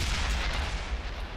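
A tank cannon fires in World of Tanks, one heavy booming blast with a rumbling tail, loud and close.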